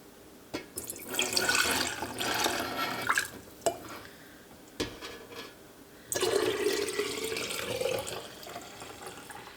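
Bone broth from an Instant Pot pours into jars in a steady liquid stream, close and fairly quiet, with a few clinks and pauses between pours and no talk.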